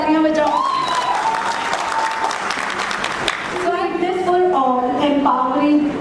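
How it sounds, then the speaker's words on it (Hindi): An audience at an international physiotherapy conference lecture breaks into sustained applause, a dense crackle of many hands lasting several seconds, with a voice speaking over it near the start and again toward the end. "तो थोड़ी जोर से तालियां बजाओ"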